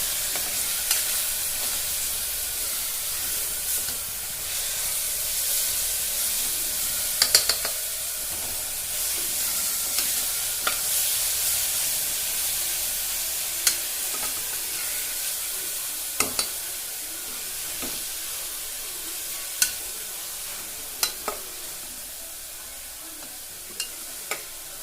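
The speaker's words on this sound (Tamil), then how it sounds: "இஞ்சி பூண்டு பேஸ்ட் வந்து பார்த்திங்கன்னா அந்த பச்சை வாடை போகிற அளவுக்கு நல்லா கலரி போட்டுக்கணும்" Ginger garlic paste fries in a pan with a constant close sizzle and hiss, while a spoon scrapes and taps the pan in scattered clicks throughout.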